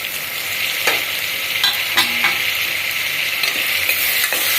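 Tomatoes stirred into onion masala frying in oil, a steady bright sizzle throughout with a few sharp scraping clicks of the spoon against the pan, close and alone without voices.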